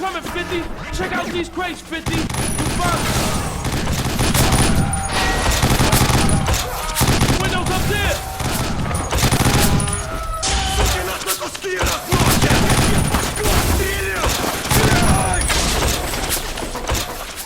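Continuous rapid gunfire from the PS3 game 50 Cent: Blood on the Sand, dense bursts and shots layered over music and effects, with occasional shouting voices, loud throughout.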